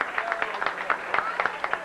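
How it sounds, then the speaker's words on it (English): Audience on a Disney-MGM Studios studio tour, right after the Catastrophe Canyon effect, gives a short burst of applause for the tour captain: dense, steady clapping from a nearby crowd that carries on with no break. "I think our captain deserves a big hand of applause."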